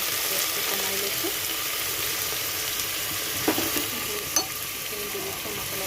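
Mutton and ground spices sizzling in a pressure cooker as they are stirred, a steady bright frying hiss with a few scraping spoon clicks.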